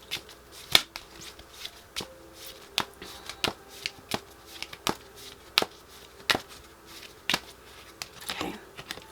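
Tarot cards being shuffled: a series of crisp, separate riffling snaps and slaps at an irregular pace, close by and alone, with no talk.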